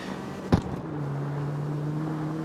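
A car engine in the CarX Street racing video game drones steadily at a low, even pitch throughout, with a brief soft thump near the start and no talking.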